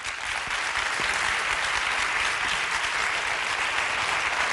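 Studio audience at a TV3 debate show applauding steadily, a dense, even wash of clapping filling the room without pause.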